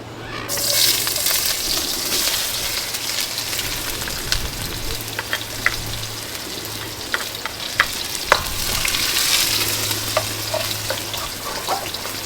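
Onions sautéing for a Filipino mung bean stew with coconut milk and squash shoots: steady frying sizzle with a low hum underneath, broken by scattered spoon scrapes and clinks against the pot. No one speaks.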